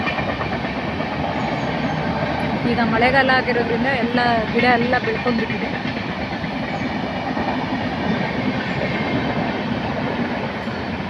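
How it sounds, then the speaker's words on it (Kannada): A Konkan Railway train runs right beside a house, its continuous rumbling clatter of wagons and wheels filling the background while a person talks over it. "ಇಲ್ಲೇ ನಮ್ಮನೆ ಪಕ್ಕದಲ್ಲೇ ಕೊಂಕಣ್ ರೈಲ್ವೆ ಹೋಗ್ತಾ ಇರುವಂಥದ್ದು"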